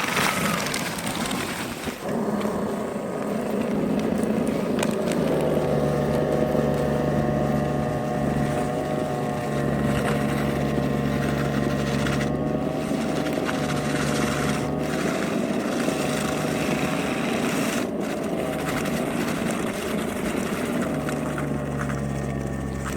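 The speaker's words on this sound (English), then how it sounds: "I'm continuously adjusting the height, or the tilt of the blower" Snow blower mounted on a Spyker KAT 2X clearing snow runs as a loud, steady droning engine and churning roar for the whole stretch, with slight shifts in pitch as the load changes and no talking.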